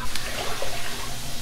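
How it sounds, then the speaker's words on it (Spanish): Five cups of water poured into a pot for homemade rice pudding, a steady close splashing gush filling the pot with no talking over it. "Voy a echar 5 tazas de agua."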